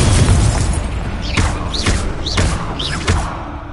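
Spell combat in Hogwarts Legacy with the Incendio fire spell: a loud, dense clash of rapid booms and thuds, with short whooshing sweeps recurring about every half second over a constant roar.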